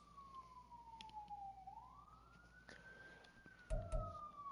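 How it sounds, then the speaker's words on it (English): A police-type siren wails outside, sweeping down then rising again, distant and fairly faint over background noise, with a louder thump of nearby activity near the end. "Sorry, just sirens out there."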